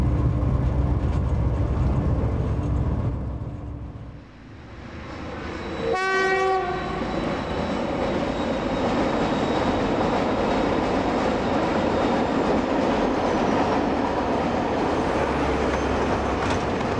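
Heavy limestone train hauled by two Blue Tiger diesel locomotives on a German mountain line, a loud continuous rumble of engines and rolling wagons, with a horn blast about six seconds in, then the steady roar carries on.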